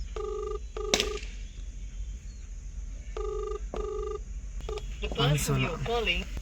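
Repeated electronic phone ring tones in two short double bursts, with someone speaking briefly after the second and low background hum throughout.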